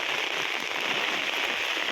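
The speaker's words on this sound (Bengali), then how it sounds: "যাক, বৃষ্টি হইতেছে," Steady rain pours down during a stormy spell, a dense continuous hiss of drops on surfaces with no breaks, fairly close and even throughout.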